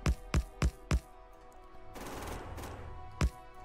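Turret gunfire in the video game Factorio: four sharp shots in quick succession, then a rougher burst of rattling fire and one more loud shot near the end, with no talk.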